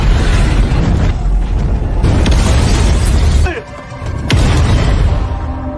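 A loud, sustained roaring gas explosion blast with rumbling debris amid floodwater, a brief dip, then another surge of noisy crashing and rumble.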